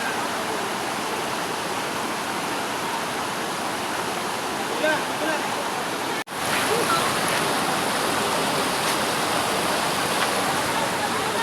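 Laktas Falls in Dingalan, Aurora: a constant, loud roar of falling water, broadband and unbroken, with people talking faintly beneath it.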